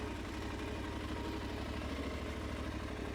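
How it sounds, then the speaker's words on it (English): A motorcycle engine idles with a steady low throb, close by, running evenly with no talking. "you use the engine to move forward"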